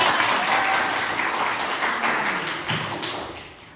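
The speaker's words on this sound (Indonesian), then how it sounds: "Tepuk tangan untuk jawaban." Pupils in a primary school classroom clap for a classmate's answer, a brisk burst of many small hands tapping that fades toward the end, with a few thumps and no speech.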